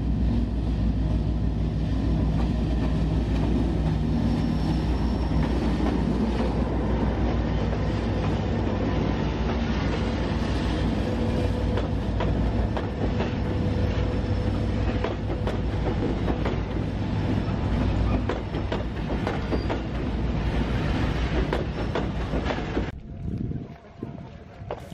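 A train on the line between Concepción and San Rosendo, Chile, rumbles steadily along the tracks with continuous clattering and wind noise, loud and close throughout before easing off at the end.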